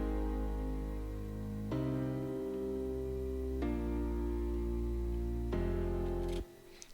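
A steady piano chord progression layered with an added bass line, its low end trimmed, four sustained chords in sequence ending abruptly, no voices.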